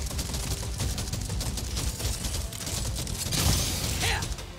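Rapid gunfire in the Deep Rock Galactic: Survivor video game, a dense, steady stream of shots mixed with clanking game effects, staying loud and busy throughout with a brief brighter swell near the end.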